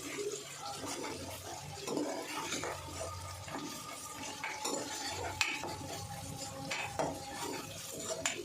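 A paste fries in a pan with mint and coriander while a spoon scrapes and stirs, clinking against the metal in irregular strokes over a low, steady sizzle, close and moderately loud throughout.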